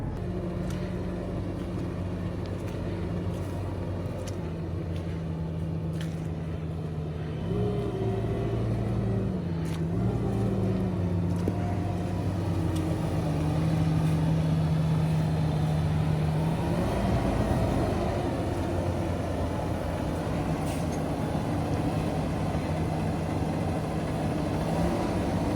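Tractor engine in a farming video game moving a trailer, a steady loud drone that shifts pitch as the machine drops, hitches and repositions the load, alone without talk.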